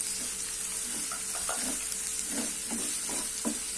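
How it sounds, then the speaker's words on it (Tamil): Small-cut cauliflower and carrot pieces sauté in an oil-filled pan for veg masala pulao, giving a steady sizzling hiss with scattered soft stirring scrapes and crackles, close and continuous, with no talking. "இது ஒரு 2 நிமிஷம் வதங்கட்டும்."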